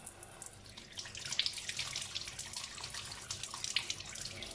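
Apricots being washed under a running kitchen tap, a steady close hiss and splash of water with brief brighter spatters as the fruit is turned under the stream, no voices.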